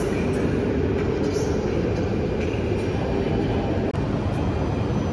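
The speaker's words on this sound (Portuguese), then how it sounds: "Então a gente vai de trem para Porto, a cidade do Porto." A train runs through a station in Portugal with a loud, steady roar of wheels and carriages on rails and faint squeals, close and continuous for several seconds.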